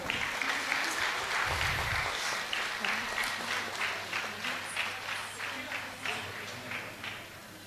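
Audience applause at a Bharatanatyam arangetram welcoming a dancer, steady dense clapping throughout with a low hum and faint voices underneath.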